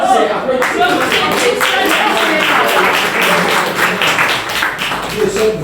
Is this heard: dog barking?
no